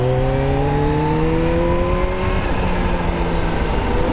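A supercharged Kawasaki Z H2 motorcycle revs its engine with a sustained, loud, close tone that rises and falls in pitch. A faint compressor blow-off whoosh sits within the engine noise.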